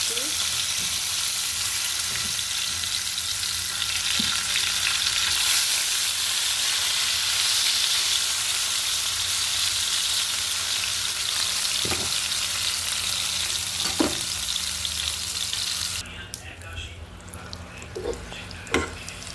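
Pointed gourd (potol) coated in turmeric and salt frying in oil, a steady close hiss with occasional stirring clicks, easing into quieter, sparser crackles and scraping toward the end.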